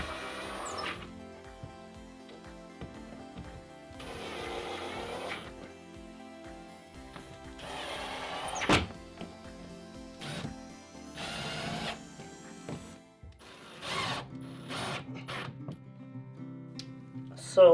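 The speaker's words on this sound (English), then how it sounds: "I'm just going to screw this into the wall." A power drill driving screws to fix a board to a wall in a bedroom: several short bursts of whirring motor at moderate distance, interspersed with clicks and handling knocks.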